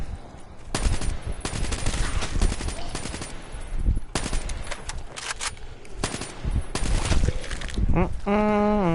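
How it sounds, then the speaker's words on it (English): Rapid automatic gunfire from Call of Duty Black Ops 3 Zombies on the Nacht Der Untoten map, loud sustained bursts and volleys with brief gaps, ending in a rising electronic tone. "Sorry if the gunfire is a little alarming"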